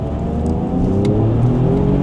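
An Alfa Romeo Giulia Quadrifoglio, Ferrari-derived engine, accelerating hard around the Donington Park race track, a loud close interior engine note rising steadily in pitch over two seconds with no talking.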